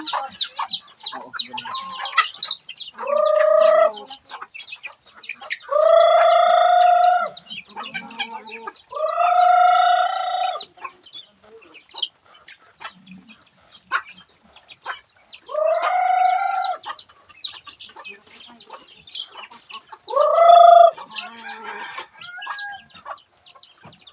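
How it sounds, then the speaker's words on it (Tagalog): Chickens cluck close by while a rooster crows loudly in about five separate bursts, spaced a few seconds apart over a continuous backdrop of clucking. "manok, hindi aso"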